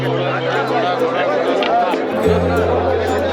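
Pilgrims on the Amarnath Yatra crowd together between Sheshnag and Panchtarni, a dense, steady murmur of many voices close by, with a low engine-like drone beneath and someone speaking over it.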